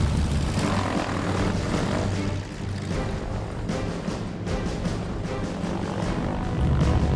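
An antique conventional-gear (tailwheel) propeller airplane taxis at Van Nuys airport, its engine giving a loud, steady, close propeller drone that runs unbroken throughout with slight swells in pitch.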